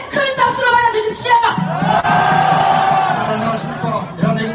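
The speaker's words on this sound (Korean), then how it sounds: "더 자유일보 대표 박상권 대표님을 큰 박수로 맞아주십시오." A large outdoor rally crowd at Seoul Station cheers and shouts loudly, a sustained roar of many voices with whoops rising and falling under a public-address setting.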